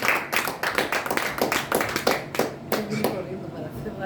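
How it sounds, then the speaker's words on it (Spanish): A church congregation claps after a sermon, with quick uneven hand claps bursting through a close, lively room; voices call out and talk continues over the clapping. "Denle un aplauso al Señor"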